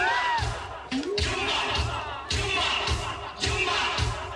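Wedding guests at a resort shouting a chant together in bursts, loud rhythmic crowd yells with thumping beats underneath, a voice calling out between the shouts.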